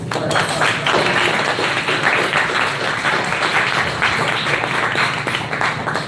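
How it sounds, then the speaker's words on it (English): An audience at a book talk gives a sustained round of applause, dense, even clapping that holds steady and loud for several seconds with no voices over it. "Can we give them another quick round of applause?"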